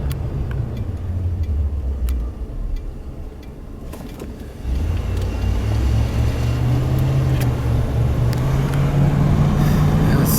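A 1989 Ford F-350 XLT Lariat 4x4 crew cab pickup rumbles along on a test drive, its engine droning steadily, dipping briefly, then rising and pulling harder with a low, continuous hum.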